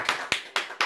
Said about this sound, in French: Et on applaudit tous Stanislas